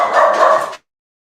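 Puppies bark excitedly at a doorbell indoors, a single loud, close burst of yapping that cuts off abruptly into silence.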